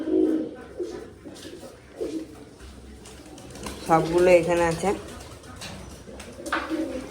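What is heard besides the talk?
pigeons cooing in a loft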